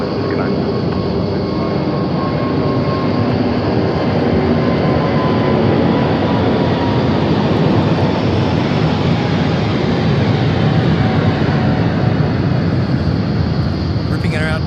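Airliner departing Sydney Airport at night, bound for Kuala Lumpur: a broad, continuous jet engine roar that holds steady and loud for the whole stretch, with people talking faintly underneath.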